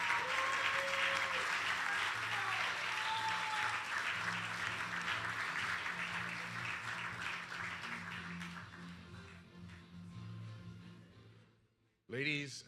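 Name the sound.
audience applause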